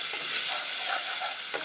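Oil frying steadily in a pan for a Telugu fish curry, a close, even hiss and crackle that carries on without pause and without any talking.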